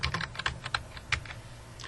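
Quick run of computer keyboard keystrokes as a name is entered into a spreadsheet, light irregular clicks bunched early then thinning out, quiet and close.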